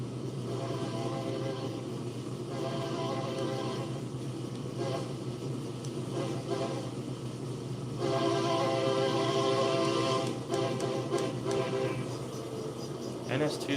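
A Norfolk Southern train rumbles through Chester in the video game Southline District, its engine drone and rolling clatter steady and loud, with tonal horn-like layers and a swell partway through.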